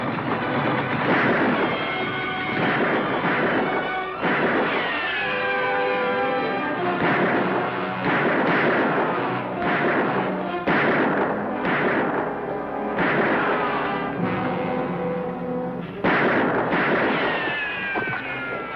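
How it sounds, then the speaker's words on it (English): Gunfire in a western shootout, repeated sharp loud shots and echoing booms in irregular bursts across the whole stretch, with no talk over them. "We better watch our shots, Lofty."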